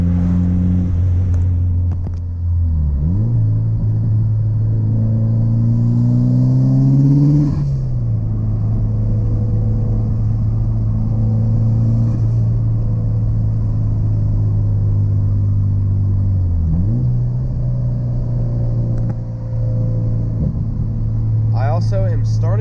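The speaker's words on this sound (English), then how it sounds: "am starting to get the hang of rev matching in this car, and also upshifting" Porsche 944 engine droning steadily while driving, with rising revs during upshifts and brief rev-matching blips between gears, close and loud throughout with a voice talking over it.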